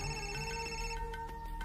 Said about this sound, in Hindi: ये शेखर फोन कर रहा है।